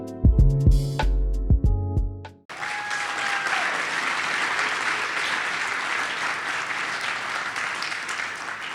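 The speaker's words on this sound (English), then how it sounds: "if you'd give him one more round of applause" Audience applause at a business school entrepreneurship hall of fame ceremony, breaking out after a short musical sting and swelling into steady, sustained clapping from a large indoor crowd.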